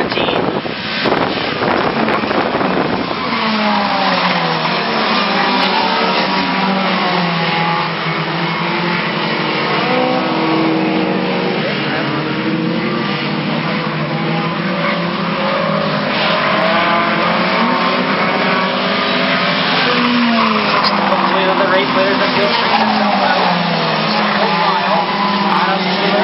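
Race cars at Brighton Speedway come off turn two and down the back straightaway, their engines a loud, continuous roar that holds steady for the whole stretch.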